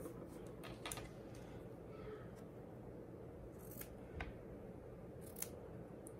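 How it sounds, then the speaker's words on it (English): Scissors snip around an applique on a heirloom quilted blanket, soft close crisp cuts spaced irregularly over a low steady background hiss. "you don't cut the stitches, you cut around"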